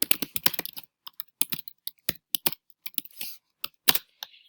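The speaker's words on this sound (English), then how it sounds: "I just type it in." Quick, irregular bursts of key clicks as someone types on a computer keyboard, close and fairly quiet with short pauses between words and no talking.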